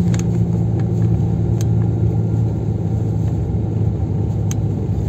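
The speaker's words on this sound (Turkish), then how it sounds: "Arabamızın hibrit turbo olmasının güzelliği işte bak. 1500 devir uyuyor uyuyor çıkıyoruz." A hybrid turbo car engine pulls away at a low 1500 rpm, a steady, loud, close low rumble that holds evenly throughout with no voices.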